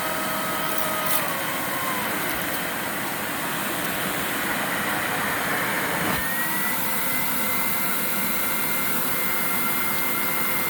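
An Advance Carpetwin 16XP carpet vacuum runs steadily during an airflow test, giving a loud continuous whine and rushing hum with a slight shift in pitch partway through.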